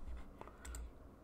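Keys on a computer keyboard are typed in a short burst of a few quick, soft clicks, close and quiet, with no voice.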